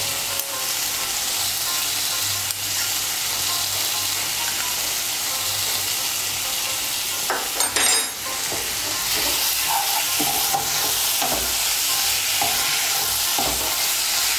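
Papaya and poppy seeds fry in a pan with a steady, loud sizzle and hiss. A spoon scrapes and stirs the pan now and then, close up, and nobody talks.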